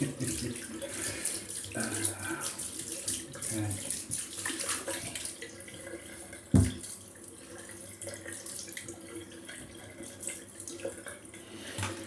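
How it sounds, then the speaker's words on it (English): Tap water runs steadily into a sink as a face is rinsed after a shave, a continuous close splashing rush with one brief louder knock partway through. "Going to give myself a bit of a rinse"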